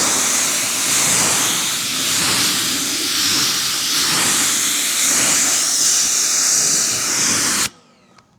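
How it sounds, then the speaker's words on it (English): A steady, loud hiss of pressurised water spraying and rinsing soap off a car, continuous for about eight seconds before cutting off abruptly, followed by faint dripping. "I'm going to rinse this off."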